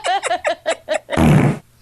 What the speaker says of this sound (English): I fart all the time.